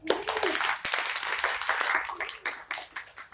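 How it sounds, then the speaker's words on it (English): Audience applause for a presenting group at a live design discourse event, a dense wash of many hands clapping steadily at moderate volume for a few seconds, with a faint voice briefly underneath. "Big applause for them."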